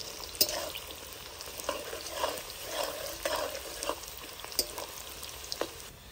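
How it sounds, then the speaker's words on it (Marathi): Onion frying in oil left over from frying paneer, a close steady sizzle with occasional stirring clicks and scrapes of a spoon in the pan, no talking. "त्याच तेलात आपण आता कांदा पण तळून घेणार आहोत।"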